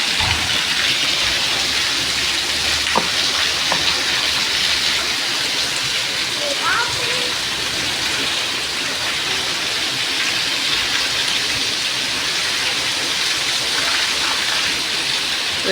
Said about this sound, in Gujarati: બહાર નીકળે ને તો આપણે ઉડી જાય એવો વરસાદ છે